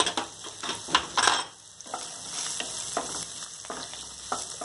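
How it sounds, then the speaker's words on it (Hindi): Carrots and French beans frying in a pan with green chillies, giving a moderate sizzle broken by several spoon scrapes and stirring clatters, with a louder burst near the start. "अब मैं इसमें पहले गाजर डालूंगी और फ्रेंच बीन डालूंगी और इसे थोड़ा सा मैं एक दो मिनट भून लूंगी"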